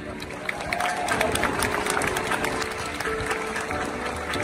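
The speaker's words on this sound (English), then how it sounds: "Please give a round of applause to Femi Ogundele." An audience applauds at the 2024 UC Berkeley Cal Day opening address, welcoming admissions officer Femi Ogundele: a steady, dense wash of clapping from a large crowd that holds for the whole stretch.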